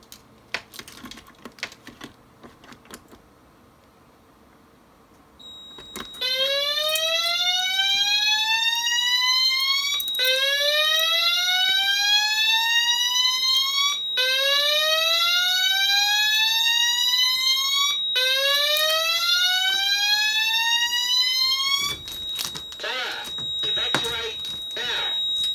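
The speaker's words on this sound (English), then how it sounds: "Let's go ahead and set this module off now," An analog addressable fire alarm system sounds its siren during a test: a loud, continuous repeating rising whoop sweep over a steady high tone, with brief clicks before it starts and noise after it cuts off.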